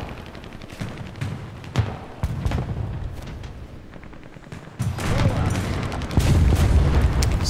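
Bombs from an M2A4 aircraft burst across a row of lined-up ground targets in War Thunder air arcade, a rolling series of heavy booms and crackling blasts that swell louder toward the end, with faint voice underneath.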